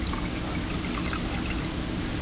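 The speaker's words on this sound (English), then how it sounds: "you want to pour a little bit into one" Strong wine poured steadily into a glass, a continuous close-up splash and trickle heard alone and at even loudness throughout.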